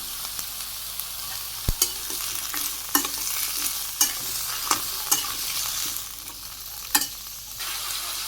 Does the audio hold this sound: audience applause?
no